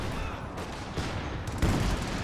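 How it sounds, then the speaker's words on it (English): Calliope rocket artillery fire in Company of Heroes 2, a dense rumbling barrage of explosions at close range with no talk. "Close range Calliope hoping to wipe that squad."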